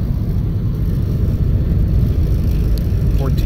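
A modified Nissan 240SX engine runs at a steady idle, producing a continuous low, even rumble that stays close and constant throughout, with no revving.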